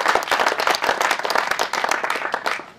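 A crowd at a community running event in Geervliet claps for a sponsor, a lively burst of many hands with individual claps standing out, fairly loud and close.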